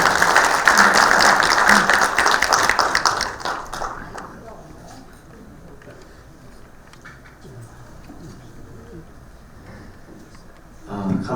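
A hall audience at a healthcare forum breaks into strong applause welcoming the association president to the stage, loud for about four seconds before fading to quiet room murmur, with a short burst of sound at the end.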